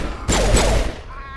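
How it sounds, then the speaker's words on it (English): A heavy explosive pistol fires in Mass Effect 1 Legendary Edition, giving one loud, close, broadband blast that holds for about half a second and then fades into a low rumble. "Heavy explosive pistol."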